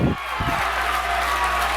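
A Lancer crowd at a high school boys' basketball game in a gym roars in a dense, steady wash of noise during a free throw, loud and sustained throughout.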